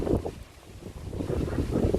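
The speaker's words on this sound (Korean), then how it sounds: "오늘 바람이 이렇게 제대로 불어주네요." Strong wind gusts buffet an east-facing apartment veranda, a low, rough roar that surges and eases in uneven waves at close range, with no voices.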